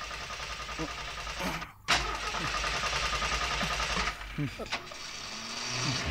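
A stalled car's engine is cranked and turns over in a couple of short bursts, close by and fairly loud, with people talking around it.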